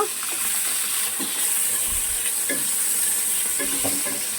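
Bitter gourd deep-frying in oil, a bright continuous sizzle up close with a few soft clicks and shifts of the pieces, and no voices.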